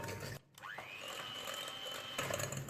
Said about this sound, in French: Je mélange avec le batteur électrique.